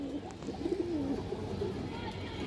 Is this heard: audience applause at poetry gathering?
no